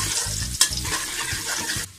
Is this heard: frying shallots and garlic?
yes